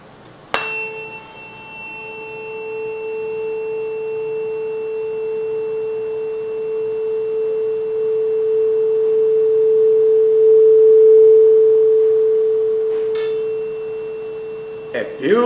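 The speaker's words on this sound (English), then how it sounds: "now repeat it for the next tuning fork, that is 440 Hertz" A struck 440 Hz tuning fork held over a water-filled resonance tube gives a steady pure tone that swells gradually louder as it resonates, then eases off, with a sharp tap at the start and faint knocks near the end.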